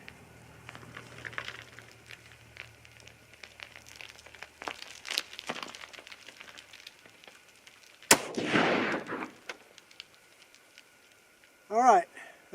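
A .308 Winchester rifle firing Hornady 150gn loads lets off a sharp shot with a short decaying tail, loud against quiet outdoor surroundings, amid scattered handling clicks and rustles and a later brief noise burst.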